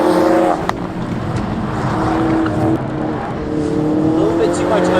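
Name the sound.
Ford Focus RS engine revving at the limiter on track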